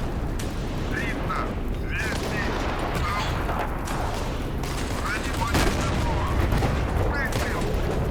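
Tank gun fire and surrounding gunfire from the Steel Fury tank game, with a T-37/76 in a WWII-era attack on a village, a sustained battle din of shots and booms running steadily throughout.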